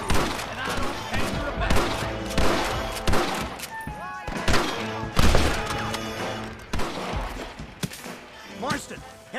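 A shootout in Red Dead Redemption brings a dense fusillade of gunshots, sharp cracks and volleys firing in quick succession with loud thuds. Voices talk and shout throughout.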